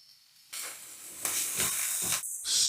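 Chopped onion drops into hot oil in a pan for a Japanese ground meat curry and sets off a bright, loud sizzle that surges and hisses on without a break as it is stirred.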